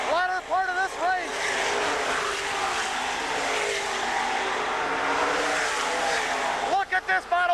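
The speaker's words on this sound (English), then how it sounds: "Maynard Jinks trying to hold off the challenges of Keith Kaufman here. We're working down into the latter part of this race." Race cars roar past on an oval track, engines droning steadily in the distance while a commentator talks over the racing.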